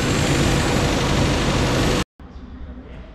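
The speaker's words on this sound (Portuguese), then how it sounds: "Aí, ó, o motor ligou." A Suzuki Jimny engine with a faulty ignition coil and its air filter removed runs loud and steady up close, then cuts out abruptly, followed by a quieter, softer running sound.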